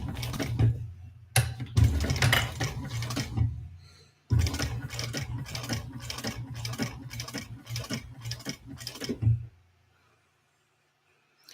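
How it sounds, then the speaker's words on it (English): Sewing machine top-stitching fabric accent panels on a bowler bag, running in close rapid bursts of needle stitching with brief pauses, then stopping into quiet. "now we're going to top stitch these panels here, these little accents"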